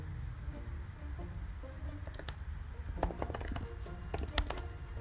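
Quiet clicks of a computer keyboard as a username is typed, several short bursts of keystrokes clustered toward the end, faint and close against a low hum.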